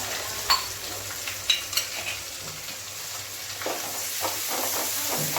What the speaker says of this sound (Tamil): இப்போ தக்காளி, கருவேப்பிலை, மல்லி கொஞ்ச நேரம் மஞ்சத்தூள் சேர்த்துக்கலாம்.